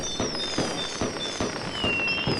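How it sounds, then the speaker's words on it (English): Fireworks go off in the video game WorldBox: a rapid, even series of crackling pops and bursts, with faint whistles mixed in, loud and continuous throughout. "They catch on fire, and then they shoot fireworks again."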